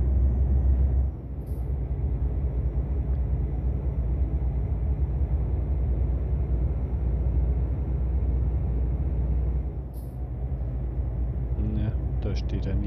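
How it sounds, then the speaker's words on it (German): A truck in the Euro Truck Simulator video game rumbles steadily at low pitch, with short sharp hisses of air brakes near the start and again around ten seconds, and a voice talks over part of it. "Die braucht man wirklich nur antippen. Und dann kommt das Ganze auch schon zum Stehen."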